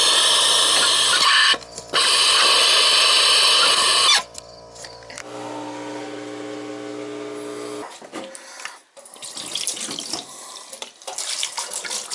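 Water gushes from an open tap and drains through household plumbing during winterizing, loud bursts stopping and restarting, then gurgling and trickling more faintly through the pipes.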